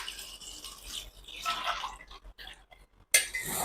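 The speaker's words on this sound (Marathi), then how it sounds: "सर्वात आधी बघा साधं पाणी टाकून घेते मी" Plain water is poured over fresh tandulka (amaranth) leaves in a kitchen for washing, giving a soft splashing rush that fades into a few quiet drips and gaps, then ends with a brief sharp splash.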